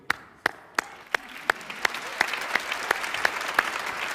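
An audience applauds with loud, evenly spaced single claps about three per second over a steady crowd wash, close and lively.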